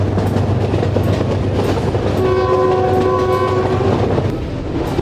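A train rumbles loudly along the platform at Lahore Junction railway station, its horn sounding midway with a steady, sustained blast over continuous rolling wheel noise.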